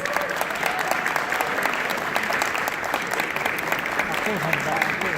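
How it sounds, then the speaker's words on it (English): Audience at a university Asian culture night fashion show applauding two women at the stage front, steady loud clapping with crowd murmur underneath throughout. "let's give these ladies a round of applause"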